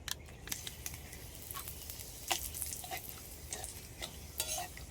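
Dried red chillies and bay leaves crackle in hot oil in a home kitchen as chicken curry is started, a soft continuous sizzle broken by short sharp pops and the scrape of a stirring spoon, with no talking.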